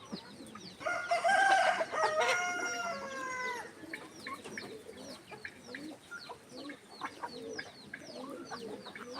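A rooster crows loudly near the start while several chickens cluck and chatter steadily around it for the rest of the clip.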